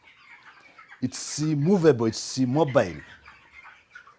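Three-week-old chicks in a chicken house with a small brooder fence cluck and peep faintly throughout, mostly beneath someone speaking close by.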